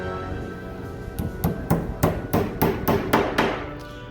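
A hammer taps new Teflon glides into the bottoms of a Danersk drop leaf table's wooden legs: about ten crisp, close knocks in a quickening, fairly even rhythm.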